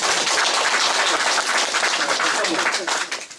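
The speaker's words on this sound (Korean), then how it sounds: "우리 강동호 위원장님 네. 격려 큰 박수 한번 보내주시고" Loud, dense applause at a political office gathering for a committee chairman, thick and continuous, then thinning and fading out in the last half second.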